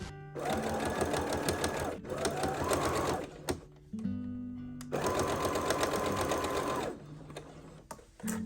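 Bursts of a sewing machine stitching a seam in a nightgown, running steadily for several seconds, stopping briefly, then whirring again, close and loud with no talking.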